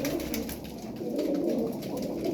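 Pigeons coo steadily in low, throaty murmurs, overlapping and continuous, close by with no talking.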